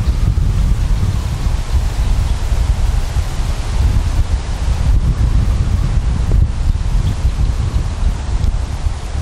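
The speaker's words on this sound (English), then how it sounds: "The wind is strong, guys." Strong wind sweeps across an open golf course, roaring loud and unbroken against the microphone as a dense, continuous rumble with gusty rustling throughout and no speech.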